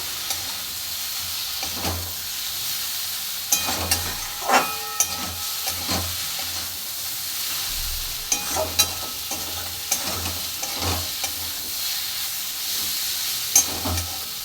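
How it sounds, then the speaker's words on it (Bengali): Small chuno fish fry in a pan over a steady hiss of hot oil, with repeated scraping spatula strokes and occasional metallic clinks as the fish are stirred, close up and with no talking. "দেখুন মাছটা দিয়ে ভালো করে নেড়ে চেড়ে নেব।"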